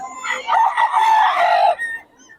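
A gamefowl rooster, a golden-colored bird, crows once in a loud, close, sustained cock-a-doodle-doo lasting about a second and a half, ending with a brief trailing note.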